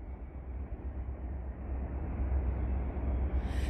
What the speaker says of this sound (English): Oh my gosh, look how long this train is.